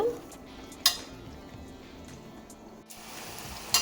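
Onion paste frying in oil in a pan for a Koonam fish curry, a steady soft sizzle with occasional clinks of a utensil stirring against the pan.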